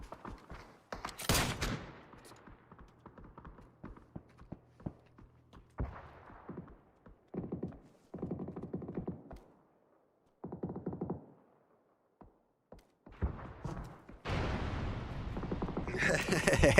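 Gunfire in the video game PUBG during a competitive match: scattered sharp shots and short bursts, some near and loud, others distant, separated by gaps, with heavier sustained firing toward the end and occasional commentator talk.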